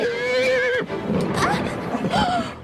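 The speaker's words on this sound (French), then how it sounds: "S'il te plaît, descends de ce cheval." A horse whinnies loudly and close, its shrill neigh rising and falling, then another neigh follows while people talk nearby.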